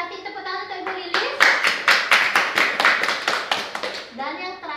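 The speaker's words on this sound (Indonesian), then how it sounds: "Kasih tepuk tangan untuk Ibu Lilis." A group claps for a woman named Ibu Lilis, several seconds of brisk, fairly even hand claps close by, with a voice and speech before and after.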